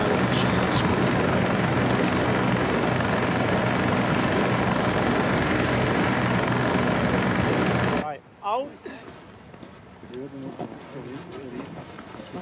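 A single-pilot helicopter flies close by with a loud, steady rotor and engine roar. The roar cuts off abruptly after about eight seconds, leaving quieter, softer sounds.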